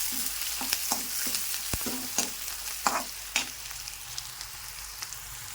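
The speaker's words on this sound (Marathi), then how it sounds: "खडे मसाले घेतलेला आहे ते पण टाकून देऊ याच्यामध्ये त्याला फ्राय होऊ" Whole spices fry in oil in a pan for a dum aloo dish. A soft steady sizzle runs throughout, broken by sharp scraping strokes from stirring at irregular intervals. No one speaks.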